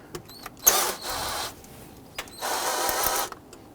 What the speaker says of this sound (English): Using a 10mm socket, we're going to loosen the clamp here